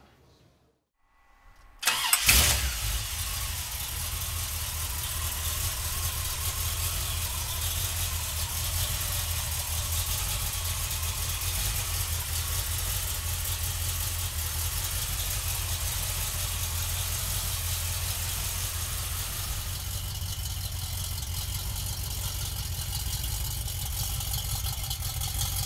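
A 1969 Chevrolet Camaro with a built 350 V8 cranks briefly and fires up loudly, then settles into a steady, rumbling idle close by that continues for over twenty seconds.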